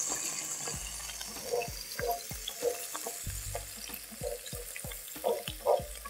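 Calamari and shrimp sizzling in a hot pan, with steady frying crackle and repeated scraping and stirring clatters, close and alone without talk.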